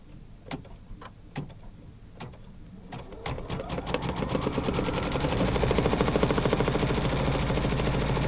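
A sewing machine stitches quilt block fabric, starting with a few sharp clicks and taps before building into a steady, close, rapid mechanical whirring that grows louder and continues to the end.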